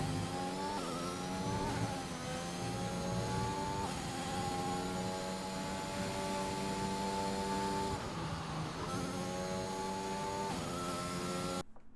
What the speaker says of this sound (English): you can hear the F1 cars in the game and just how crisp they sound